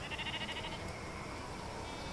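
Sheep in the Off The Record video game, a short quavering bleat at the start over a quiet steady hum from the game.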